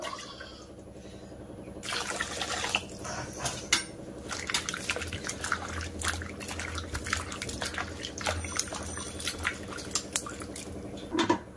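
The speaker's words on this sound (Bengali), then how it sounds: "এবার আমি জল দিয়ে পরিষ্কার করে ধুয়ে নেব আমগুলো।" Raw mango pieces being washed in water, with close splashing, dripping and light knocking of pieces against a vessel, fairly quiet and continuous.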